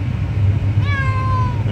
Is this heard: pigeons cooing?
no